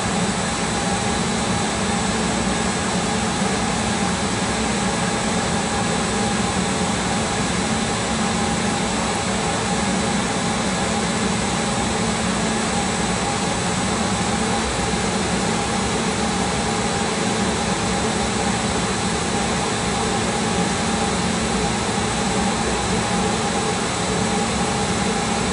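A Webster burner's blower motor runs with a steady, loud mechanical drone and whine that holds constant throughout, with no talking over it.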